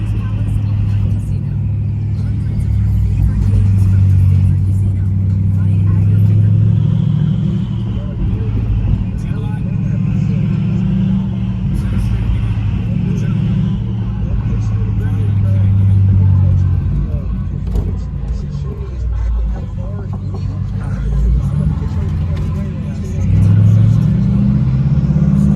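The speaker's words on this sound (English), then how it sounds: "car sounds so good." A BMW 550i fitted with catless downpipes and straight pipes drives along, a loud, deep exhaust rumble rising and falling with revs, heard from inside the car.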